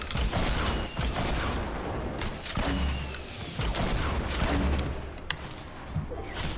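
A burst of grenade explosions and gunfire in a Fortnite match, several loud booms and crackling blasts in quick succession, dense and close, with a voice briefly heard over the chaos.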